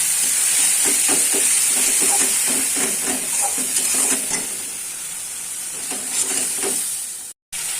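Spice paste of poppy seed, melon seed, cashew and raisin sautéing with tomato in a pan, a loud steady sizzling hiss with repeated stirring scrapes, easing off toward the end.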